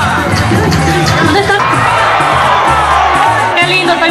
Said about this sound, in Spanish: Un fuerte aplauso para la representante del corregimiento Las Llanadas.